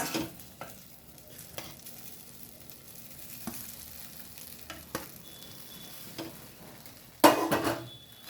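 Chicken fried rice with curry leaf chili powder stirred in a pan, soft steady scraping and light sizzle with occasional utensil knocks, close and fairly quiet, ending in a louder clatter.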